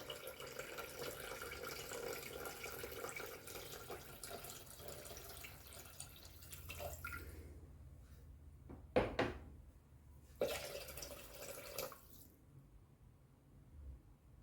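Water pours steadily into a Thermomix bowl for a chicken and mushroom risotto, a continuous trickling splash for several seconds, then stops, followed by a few brief knocks and pours.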